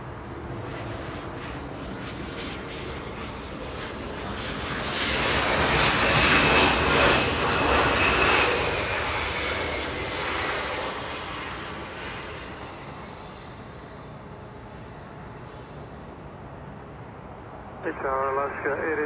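A Qantas airliner's jet engines roar at Los Angeles International Airport, swelling to a loud peak midway and then fading into a long, steady rumble; a brief burst of other noise comes near the end.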